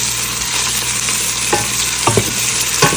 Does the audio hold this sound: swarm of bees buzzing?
no